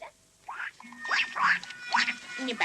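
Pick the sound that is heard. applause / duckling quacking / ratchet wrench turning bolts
duckling quacking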